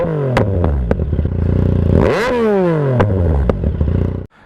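A motorcycle fitted with a modified exhaust baffle revs hard and close, its engine pitch climbing in repeated sweeps and dropping back, with sharp popping bursts between revs before it cuts off abruptly at the end.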